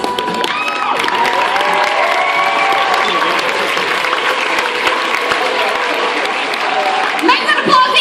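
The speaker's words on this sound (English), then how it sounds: "Make that applause even louder." Loud, sustained applause and cheering from an audience at a cosplay competition fills the room, dense clapping with scattered shouts and voices mixed in throughout.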